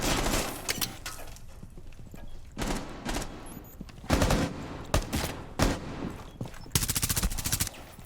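Gunfire in a shooting video game, with bursts of rapid shots and single cracks scattered across the clip over a noisy background of game sound, moderately loud.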